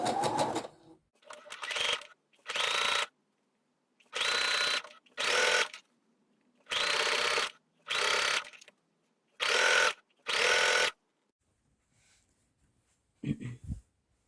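A sewing machine stitches elastic onto underwear in about eight short, loud bursts of rapid mechanical whirring, separated by brief silences, with a faint click near the end.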